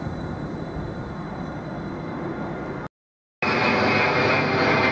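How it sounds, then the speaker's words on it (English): A Class 66 locomotive, number 66772, hauls an intermodal freight train through Ely station, making a loud, steady, close broadband rumble and roar that cuts out briefly midway and then returns as strong as before, with no talking. "intermodal service 4 Mike 29 from Fearstone North Terminal to Birch Coppice is passing through"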